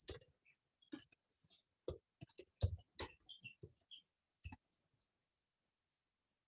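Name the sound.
typing code on a computer keyboard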